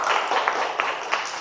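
Scattered classroom clapping from a small group of students, light and uneven, lasting about a second and a half with no voices over it.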